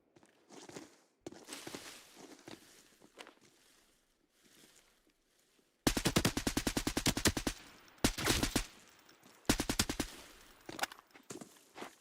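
Video game gunfire comes in sharp automatic bursts. A few scattered shots and footsteps come first, then a loud rapid volley and further bursts close by.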